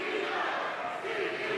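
A wrestling crowd cheers and chants to rally behind Mercedes during a match, a dense, steady roar of many voices at moderate level from across the arena.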